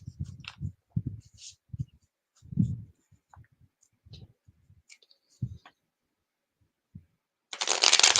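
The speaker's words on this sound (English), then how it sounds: "I think you said you like these cards, so let me give them a shuffle here" Tarot cards being shuffled during a live reading, heard as brief soft riffling and clicking bursts spread across the clip, ending in a louder sustained burst of card noise; no speech.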